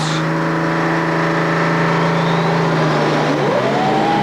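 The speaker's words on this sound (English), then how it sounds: "Building up the revs." A pulling tractor's engine revs hard at a 1996 European tractor pulling event in Hörby, Sweden, a loud sustained roar with pitch rising toward the end, no talk over it.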